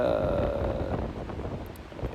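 Strong cold wind gusts across the microphone during a mountain climb on Monte Rosa toward the Castor, a broad close rushing roar that fades slightly, with a voice speaking underneath.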